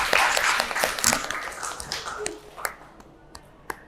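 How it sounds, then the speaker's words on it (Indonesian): A small group claps together at a gathering, a dense burst of hand claps that thins out after a couple of seconds into a few scattered, separate claps. "Oke, tepuk tangan untuk kita semua hari ini."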